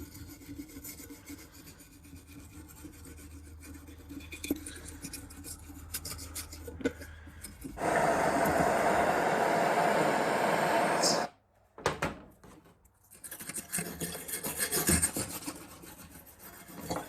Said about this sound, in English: remove the old crud and the paint and the surface rust from the battery box and its associated bracketry